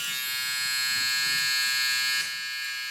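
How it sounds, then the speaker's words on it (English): An electric hair trimmer held perpendicular to the head, point cutting a high taper fade, a steady close buzzing whine for a few seconds that dips slightly near the end. "I'll turn my trimmer actually perpendicular to the head"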